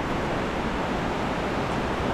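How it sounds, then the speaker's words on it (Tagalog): A strong river current rushes steadily nearby, a dense broadband roar of flowing water with gusty wind buffeting the microphone. "Rinig yung boses ng agos."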